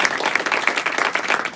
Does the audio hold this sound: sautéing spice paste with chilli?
no